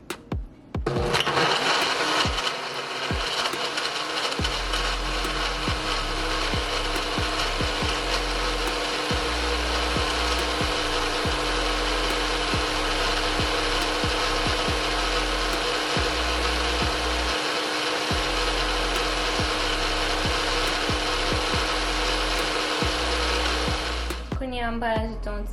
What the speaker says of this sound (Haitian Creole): on va commencer à blender